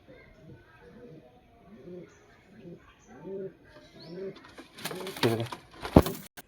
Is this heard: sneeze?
no